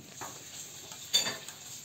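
A spoon stirs sugar syrup for tel kadayıf in a pot, with soft scrapes and a brief metallic clink against the pot's side, quiet and close with no talk.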